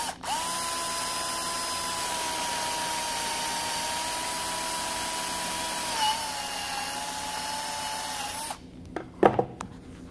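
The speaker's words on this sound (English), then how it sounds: "So then what I'll do is I'll actually drill this out." A power drill runs steadily for about eight seconds boring a 3/8 dowel-pin hole in wood through a guide, a loud sustained whine that then stops, followed by a few brief clunks as the tool is handled.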